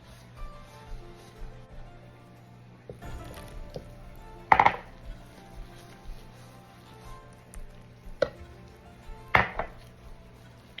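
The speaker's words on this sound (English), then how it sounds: "Stir it in." A spoon stirs yeast mixture into flour dough in a bowl, giving soft, squishy stirring sounds with a few sharp knocks of utensil against the bowl, close and quiet, with no talking.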